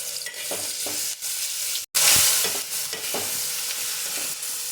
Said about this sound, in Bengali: এবার একে একে আরও কিছু মশলা দিয়ে দেব, দিয়ে একবারে কষতে থাকবো